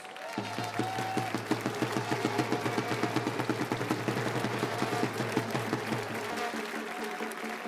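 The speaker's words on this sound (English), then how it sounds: "Let's give them another final round of applause." Audience applause for pastry competition teams at the Coupe du Monde de la Pâtisserie, a sustained, even round of clapping from a large crowd heard at a distance, with a steady tonal hum running beneath it.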